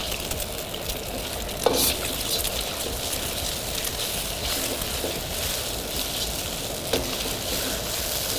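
Eggs fry in a hot pan while stir-fry noodles are being made, giving a steady, close sizzle throughout, with a couple of brief clinks or stirring sounds.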